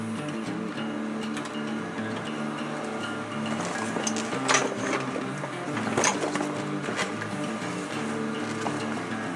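A sewing machine stitching a seam on a 50-litre roll-top backpack, a steady buzzing run with a few louder stitching bursts midway, continuous and close.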